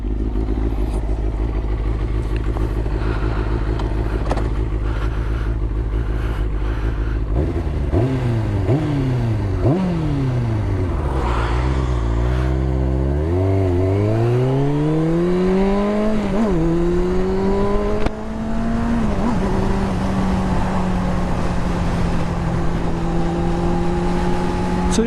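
A 1999 Kawasaki ZX6R motorcycle idles, then revs and pulls away, its engine note rising through several gear changes and settling into a steady, loud cruising drone as it rides.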